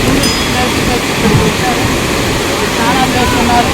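A constant, dense roar of rushing water, loud and close, a broad flow pouring over the YSR Dam at Kalvapalli.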